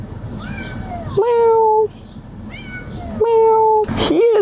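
A stressed cat meows twice in drawn-out calls a couple of seconds apart, close and loud, with a person softly imitating the meows between them.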